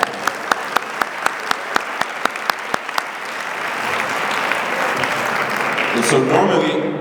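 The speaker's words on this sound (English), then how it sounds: "So we should clap for that." A few slow, sharp claps ring out alone, then a gala audience at a 25th-anniversary celebration breaks into full, building applause for students holding 4.0 GPAs, with some voices mixed in near the end.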